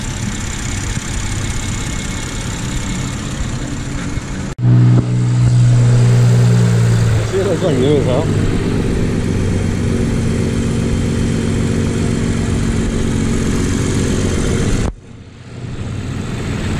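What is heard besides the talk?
BMW F30 340i engine running after hybrid turbo install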